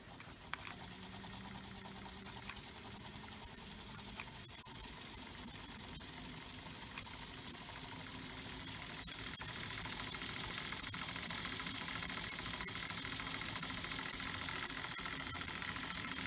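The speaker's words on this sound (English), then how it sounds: "you'll see that the stepper motor responds with an instant spin" A stepper motor spins under a live-drive controller, giving a steady mechanical hum with faint rattling ticks that grows slightly louder partway through as the speed increases.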